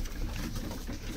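Pigeons coo steadily in a loft, soft overlapping calls forming a continuous low murmur with no talking.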